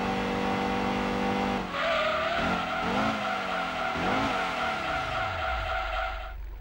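A race car in Gran Turismo 2 braking hard after a long straight: a loud, steady engine drone gives way to a sustained high tire squeal with wavering pitch, fading out as the car slows, with no talking.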